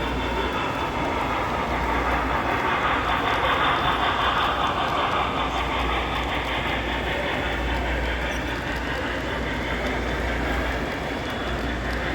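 A Conrail model locomotive runs on a layout at a July train show in Oaks, Pennsylvania, its continuous rolling clatter steady and fairly loud against the hall's background for the whole stretch.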